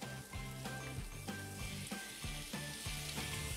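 Tomato sauce sizzles as it is added to frying pasta in a pan, a close, steady hiss broken by rhythmic scraping and stirring strokes, with no voices.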